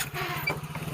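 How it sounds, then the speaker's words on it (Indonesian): A motorcycle engine runs close by with a steady low, pulsing rumble throughout, a short ride heading to a fishing spot near Sengkang, Wajo. "kita naik motor ya pemirsa ya"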